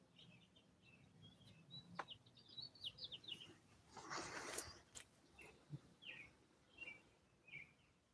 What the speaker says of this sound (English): Those are robins.